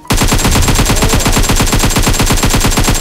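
Rapid automatic gunfire from a shooter video game, a loud, close burst of evenly spaced rounds firing without a break for the whole three seconds.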